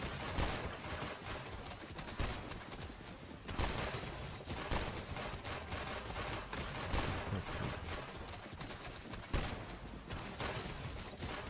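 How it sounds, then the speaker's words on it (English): Rapid, sustained gunfire with dense overlapping shots and occasional louder bursts, continuous throughout with no talking. "Don't these gunshots sound good?"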